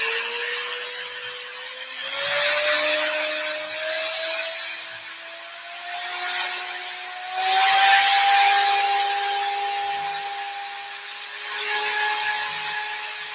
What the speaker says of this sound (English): clamp the drill.